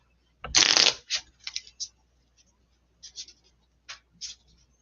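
A deck of trading cards is shuffled during a tabletop card game: one loud riffle burst, then several shorter rustling flicks and snaps, close and crisp against near silence.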